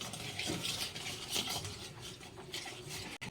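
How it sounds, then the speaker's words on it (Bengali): Fish heads being mixed with turmeric in a pan, with soft close stirring, rubbing and light clinks of utensil against the pan in an uneven rhythm, quiet and without talk. "হলুদ দিয়ে দিলাম হলুদটা মেখে নিই"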